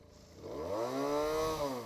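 A Benelli 300 motorcycle engine runs at idle around 1500 rpm, a close buzzing drone whose pitch swells up briefly and settles again within a couple of seconds.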